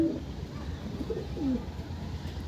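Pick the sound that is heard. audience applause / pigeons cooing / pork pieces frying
pigeons cooing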